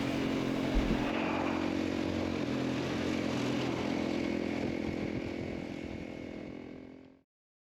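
A Honda CRF450 dirt bike engine runs steadily and strongly for several seconds during an acceleration test, a harsh buzzing roar, then cuts off abruptly near the end.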